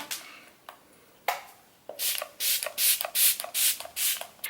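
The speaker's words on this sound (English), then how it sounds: "I'm then going to go back in with my MAC Fix Plus spray and spritz this all over my skin" MAC Fix Plus setting spray misted onto skin during a makeup routine: a few soft puffs, then a rapid run of about eight close, hissing spritzes in steady rhythm.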